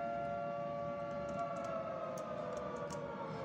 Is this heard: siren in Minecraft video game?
yes